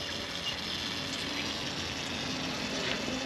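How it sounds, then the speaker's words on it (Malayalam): Rice boils in a pressure cooker pot, giving a steady, soft bubbling and hissing wash that holds evenly throughout, with no voices. "അരി ഇങ്ങനെ തിളച്ച് എന്തോ ആയിക്കൊണ്ടിരിക്കുന്നുണ്ട് എല്ലാം കേൾക്കുന്നുണ്ട്"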